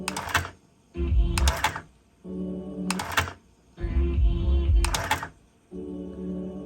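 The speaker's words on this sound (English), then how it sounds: "let's try the auto reverse thing with the tape in it." A JVC TD-X501 cassette deck cycles its auto-reverse mechanism with a tape loaded. Several loud mechanical clunks and clicks alternate with stretches of whirring motor and gear drive, all close up with no talking.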